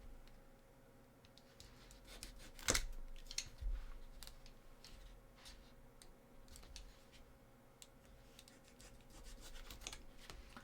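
Scissors cutting the ends off a piece of Sisters of Battle cosplay, with a sharp snip followed by faint rubbing and scratching handling noises, close and quiet, with no talk.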